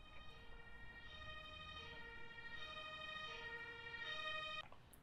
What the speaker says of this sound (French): On va appeler l'ambulance qui va venir